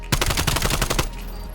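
Automatic gunfire in Call of Duty Cold War during a search-and-destroy match, a loud rapid burst of about a second that cuts off abruptly.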